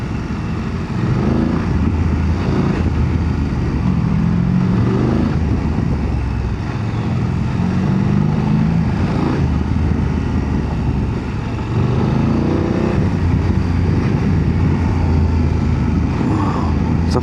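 A BMW F 900 GSA motorcycle ridden in road mode, its engine a steady loud drone with wind rush throughout, rising and falling gently in pitch as the bike moves.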